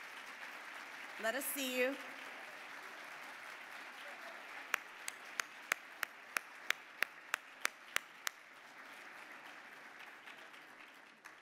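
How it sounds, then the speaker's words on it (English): Audience at a national conference applauding partner organizations, a soft steady patter of clapping from a large room, with a brief spoken line near the start and a run of sharp, evenly spaced louder claps partway through. "We want to give you a round of applause for all your terrific work"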